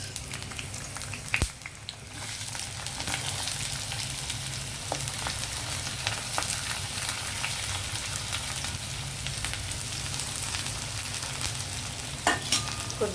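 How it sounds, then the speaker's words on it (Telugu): Onions frying in hot oil for mutton keema: a continuous close, dense sizzle and crackle with occasional stirring clicks, and no voices. "ఆయిల్ హీట్ అయిన తర్వాత మనం ఉల్లిపాయలు వేసి వేపుదామండి."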